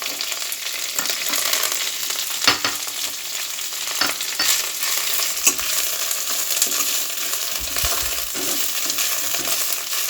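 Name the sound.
frying coriander leaves in a pan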